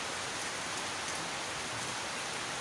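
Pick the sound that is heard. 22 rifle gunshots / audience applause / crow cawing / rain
rain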